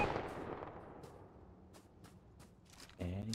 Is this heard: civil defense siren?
no